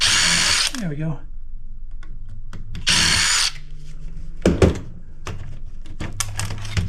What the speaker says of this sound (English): Loosen them up, so maybe I can use the drill now.